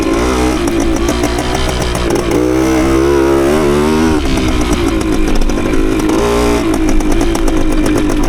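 A 1972 Suzuki TS185 motorcycle engine buzzes loud and close while being ridden, its pitch rising and falling as the throttle changes, with no voices.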